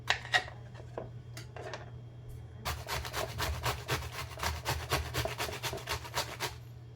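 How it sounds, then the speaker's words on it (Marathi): Ghosavale, a ridge gourd, is peeled and grated by hand for thalipeeth, first in a few scattered scrapes, then a quick, even run of close rasping strokes over a low background hum. "किसून घ्यायचं असे सगळे साल काढून टाकायचं"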